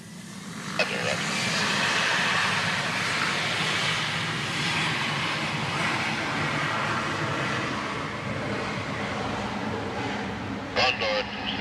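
Aircraft engines drone steadily on the apron at Barbados airport during push and start, a loud broadband rumble and whine with brief radio voices crackling over it.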